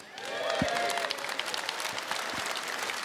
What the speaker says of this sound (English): So let's give Sam a round of applause, please.